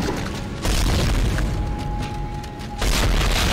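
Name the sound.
shooting an enemy in the video game Dead Space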